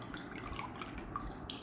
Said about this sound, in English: now let's squeeze out the excess water from this milk